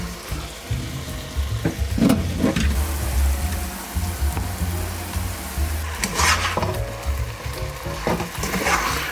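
Chow mein noodles fry and sizzle steadily in a hot pan or wok, a continuous crackling hiss with a few louder stirring scrapes and bursts, close and moderately loud, with no talking.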